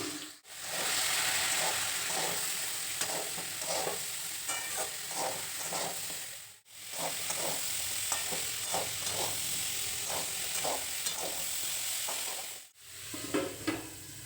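Mixed vegetables with long beans, salt and turmeric cook covered over a low flame, giving a steady, even sizzle and hiss with small pops, broken by two abrupt cuts.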